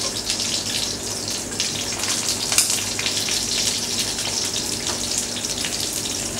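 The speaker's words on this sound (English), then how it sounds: "Just going to place the onions into the hot pan." Peeled white Italian onions hit a hot, thick-bottomed pan on the stove and sizzle loudly and steadily, a dense, close frying hiss that continues without pause.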